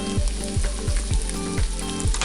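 An open-face sandwich fries in a pan with a loud, close, continuous sizzle and crackle, and faint rhythmic scraping repeats throughout. No one speaks.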